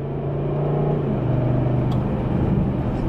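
Car engine in Sport Plus mode with the ZF transmission shifted manually, a steady close droning rumble with a sustained low hum, no speech.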